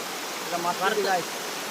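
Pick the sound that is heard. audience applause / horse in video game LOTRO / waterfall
waterfall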